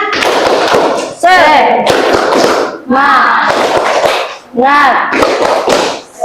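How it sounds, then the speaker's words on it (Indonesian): A school class performs a rhythmic spirit clap, loud close bursts of sharp hand claps in repeating patterns, each group punctuated by children's voices chanting together, with brief pauses between the rounds. "Tepuk semangat."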